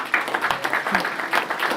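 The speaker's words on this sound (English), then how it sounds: "Give these guys a round of applause for going through the ringer." An audience claps for candidates at a public candidate forum, a short burst of dense, moderately loud applause with scattered sharper claps throughout.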